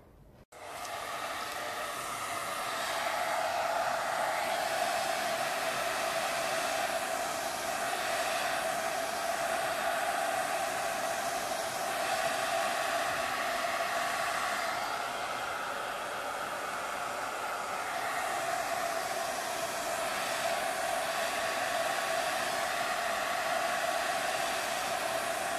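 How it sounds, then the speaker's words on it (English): A hair dryer blows steadily on a hot setting over epoxy resin art, a continuous loud whooshing hum with a slight motor whine, running alone without pause. "So I'm gonna use my hairdryer now,"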